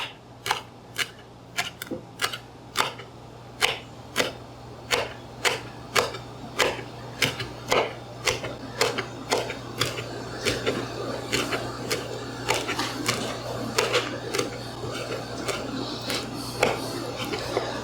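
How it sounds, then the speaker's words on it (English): A knife chops basil on a cutting board with close, sharp taps. The chops come in a steady rhythm at first and then quicken into faster, denser cutting. "So for your basil, go ahead and cut it as tiny as you want."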